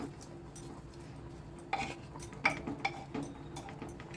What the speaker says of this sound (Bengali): এটাকে একটু নেড়ে চেড়ে দিচ্ছি